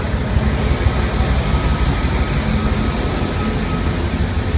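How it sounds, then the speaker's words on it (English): A new Amtrak train passes close by, a loud continuous rumbling roar that stays constant throughout. "there's that new Amtrak train"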